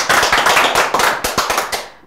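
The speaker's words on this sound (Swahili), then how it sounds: "Tũmũrĩre makofi" An audience claps together in a short, loud burst of rapid overlapping hand claps that fades out at the end.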